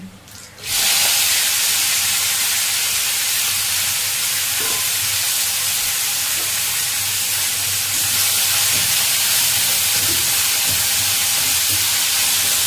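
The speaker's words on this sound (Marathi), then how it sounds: "जिरे तडतडलेले आहेत, त्याच्यामध्ये मेथीची भाजी परतायला टाकत आहे।" Fenugreek leaves dropped into hot oil with crackled cumin in a wok, setting off a loud, sudden, continuous sizzle that holds steady and close for several seconds.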